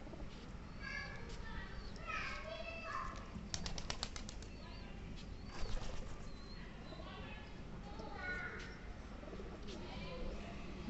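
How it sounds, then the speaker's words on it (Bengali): Pigeons flutter and flap their wings as they return to their loft at dusk, with soft cooing; the wingbeats come in brief bursts over a steady outdoor background, and someone talks nearby. "এই যে সব কবুতর দেখেন, কবুতরগুলো"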